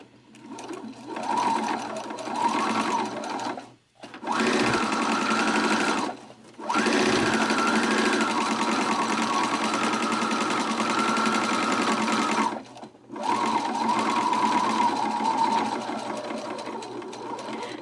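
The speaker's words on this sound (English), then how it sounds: "machine stitch the openings closed, just simply sew an 1/8 of an inch seam from the top of the middle piece to the bottom of the middle piece" A sewing machine stitches an eighth-inch seam along a pleated placemat, running in four long steady bursts of rapid whirring with brief silent pauses between, close and clear with no talk.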